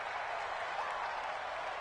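Stadium crowd in an American football video game on PS4, a steady low roar of cheering and applause heard alone, fairly faint and unbroken.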